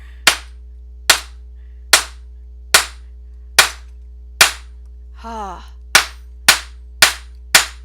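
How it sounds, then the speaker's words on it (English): A stamping hammer strikes a metal piece to flatten it, giving about ten sharp, loud ringing blows in a steady rhythm, with one short spoken exclamation between them. "I'm going to take out my bad boy. It's my stamping hammer."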